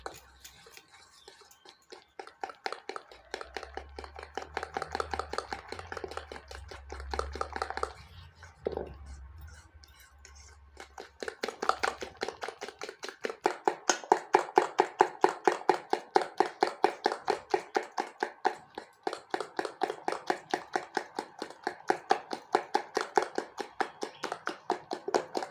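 Powdered sugar is mixed into papaya cake batter with steady, rapid tapping and squishing strokes that run on continuously and grow louder partway through. No one speaks.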